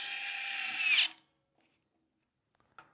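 An Amazon Basics power screwdriver drives a screw on a Grizzly G0555 bandsaw blade tensioner, a loud steady high-pitched whir for about a second that stops abruptly, followed by a few faint clicks and handling taps.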